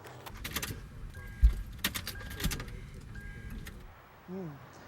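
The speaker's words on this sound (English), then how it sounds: "This is the car with the dead battery." A car with a dead battery fails to start, giving a quiet run of sharp clicks and weak, stuttering cranking bursts that never catch, then a brief low whir near the end.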